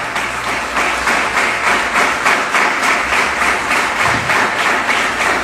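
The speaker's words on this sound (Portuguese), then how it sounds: "vamos dar uma forte salva de palmas àquele que vive" A church congregation gives a strong, sustained round of applause, with dense rhythmic clapping filling the room steadily throughout and almost no voices heard over it.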